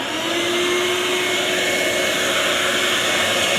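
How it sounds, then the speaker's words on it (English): Shop vac vacuum cleaner running steadily and very loudly, a constant high whine and roar close to the microphone with no pauses. "Especially this shop vac, it's the loudest."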